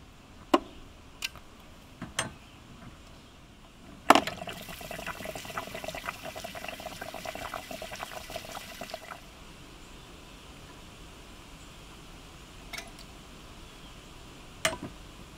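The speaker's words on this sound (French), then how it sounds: "je vais vider mon réservoir d'eau chaude en faisant attention de ne pas me brûler si l'eau est encore chaude" Water draining from a camper's hot water tank, a steady rushing flow that starts after a sharp click, runs for several seconds, then stops, with scattered faint clicks before and after and no talking.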